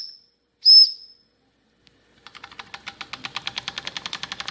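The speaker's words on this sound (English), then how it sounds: "I'm just going to blow the whistle and start it" A D5 model steam engine's whistle gives a short high blast and a longer one, then after a pause the engine starts up with a rapid, quickening series of soft puffing chuffs.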